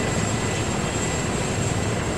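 A helicopter in the video game Arma 3 gives off a steady, loud engine and rotor roar, a dense unbroken drone with no voices over it.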